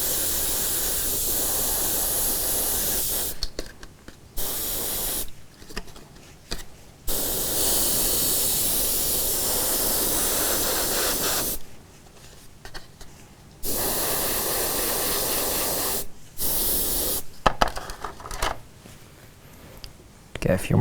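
Airbrush spraying paint onto an Imperial Knight model, long loud bursts of steady hiss broken by short pauses, close to the listener, with someone talking in the gaps.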